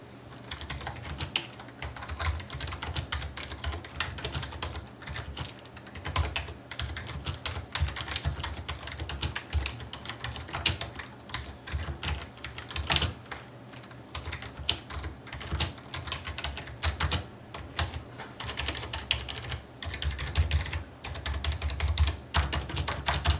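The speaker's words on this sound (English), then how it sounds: "I will now give you a quick typing test so that you can hear for yourself how the switches sound like" Fast, continuous typing on a Razer Cynosa Chroma membrane gaming keyboard, a dense run of soft key clicks and taps close up, with no voices.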